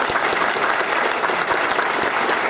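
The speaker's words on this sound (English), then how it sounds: "Round of applause, please, for Mr." A dense, steady round of applause from a convention audience at an opening ceremony, loud and sustained throughout with no voices rising above it.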